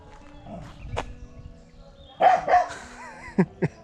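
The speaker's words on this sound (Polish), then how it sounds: "ten stoi i szczeka cały czas" A farm dog barks repeatedly in short, sharp bursts, with scattered single barks and a closer cluster near the end, over a quiet outdoor background.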